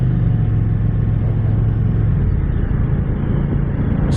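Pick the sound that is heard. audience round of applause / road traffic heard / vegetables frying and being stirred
road traffic heard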